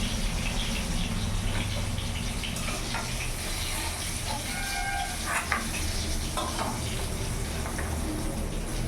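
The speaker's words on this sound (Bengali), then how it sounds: "আলু বেগুনটা লাল লাল করে ভাজা হয়ে গেছে, ভেজে নিয়েছি।" Potato and eggplant fry in hot oil, a continuous close sizzle with occasional stirring clinks and brief squeaky tones over a low background hum, no voices.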